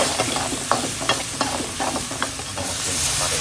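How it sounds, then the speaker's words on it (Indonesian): Bitter gourd being stir-fried in a hot pan with garlic, shallots and chili, a steady loud sizzle broken by repeated scraping stirs at an uneven rhythm, close up with no talking. "Tumis pare."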